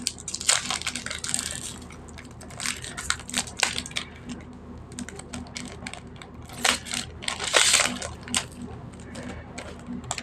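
A Pokemon TCG booster pack is torn open by hand, giving bursts of crisp crinkling and ripping foil close up, with quieter gaps of rustling cards between the louder tears.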